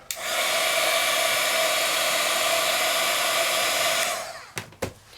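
Heat tool heat-setting embossing powder on a stencil-embossed paper craft project: a steady, loud blowing whoosh with a whine, running continuously for about four seconds before cutting off, followed by a couple of brief clicks and handling knocks.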